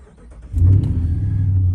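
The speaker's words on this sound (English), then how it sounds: "Turn the truck on." A RAM truck's engine cranks and catches, then settles into a loud, steady low idle that continues to the end.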